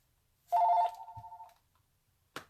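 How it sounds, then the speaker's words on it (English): A telephone rings during a card-stamping session, one loud electronic trill followed by a shorter tone, then a brief thump and a sharp click, heard alone. "oh no, really? The phone."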